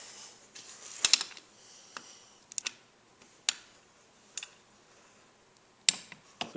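A torque wrench tightens bolts on a 1995 Suzuki Sidekick transfer case, giving sparse sharp metallic clicks at irregular intervals, close and fairly quiet, with no talking.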